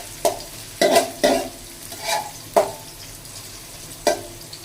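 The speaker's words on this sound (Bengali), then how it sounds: "এটা তেলের সাথে একটু হালকা ভেজে নেড়ে ছেড়ে নেবেন" Onions and green chili fry in oil in a pan, with a steady soft sizzle broken by about six sharp scraping stir strokes at an uneven pace, close and clear, with no voices.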